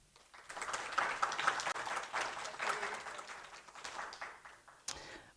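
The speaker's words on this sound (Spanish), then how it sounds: "¿Le damos un aplauso?" Audience at an academic mentoring seminar in Iquique breaks into applause, a steady patter of many hands that swells and holds for several seconds, with a few sharper claps near the end.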